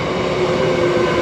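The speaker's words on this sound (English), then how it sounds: "And another train coming." A train rolls past at close range on a city rail line, a loud steady rumble of wheels and carriages with a sustained tonal hum and no voices.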